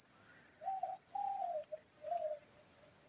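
Wild dove calling from high up in the trees during a bird hunt, several soft hooting coos in a short series, faint and distant over a steady high insect-like drone.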